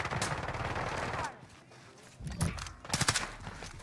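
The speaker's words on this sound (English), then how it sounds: "I'm shooting someone behind me," Bursts of automatic gunfire from Call of Duty: Black Ops Cold War, loud rapid rattling shots followed by a short lull and then more scattered, punchy bursts.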